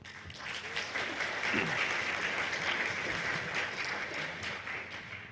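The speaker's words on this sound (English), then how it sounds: "big round of applause for him" Conference audience at Toorcon 2007 applauds a speaker before a cryptography talk, a quiet, steady wash of clapping from a room, somewhat distant, with a faint voice briefly underneath.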